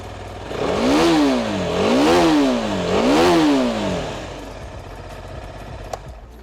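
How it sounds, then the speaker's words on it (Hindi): A Husqvarna Vitpilen single-cylinder motorcycle exhaust revs three times in a row, each rise and fall rhythmic and throaty, then settles to a muffled idle. "विथ पिलन की बात करें तो उसका जो एग्जॉस्ट नोट है कुछ इस तरह से है।"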